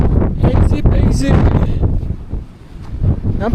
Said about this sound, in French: Il y a un peu de vent quand même